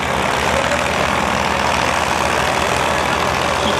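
A tractor engine idles and rumbles at a village tractor competition during a rural sports fair in Akalpur, a loud, steady low drone throughout with no voices.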